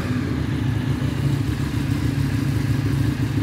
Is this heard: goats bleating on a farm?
no